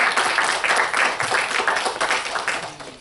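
Audience applause at an event session, a dense steady wash of many hands clapping throughout, fairly loud and continuous with no voices standing out.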